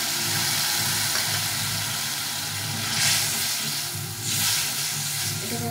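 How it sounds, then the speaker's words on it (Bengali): Red chili paste masala being fried for Bengali fish curry, with spice-rinsing water added, giving a steady hiss and sizzle with two louder surges of spatter, no talking. "এটাকে এখন ভালো করে কষিয়ে নিতে হবে।"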